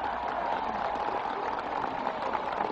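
A large crowd applauding Martin Luther King's I Have a Dream speech: steady, dense clapping heard from a distance in a thin, old-sounding recording, continuous throughout with no break.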